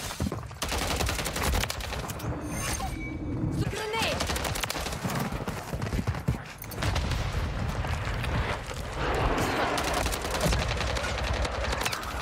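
Rapid gunfire from the Call of Duty MW3 video game, with a Striker SMG setup, sounds in dense, continuous bursts and fusillades throughout, loud and close, mixed with game effects and some talk.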